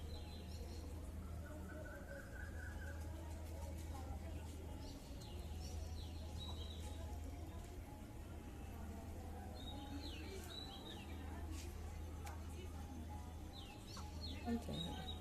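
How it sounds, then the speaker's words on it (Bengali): Faint bird calls chirp now and then at dusk over a low steady hum and quiet outdoor ambience, with a distant voice or two. "পাখি ডাকছে সন্ধে হয়ে এসছে না"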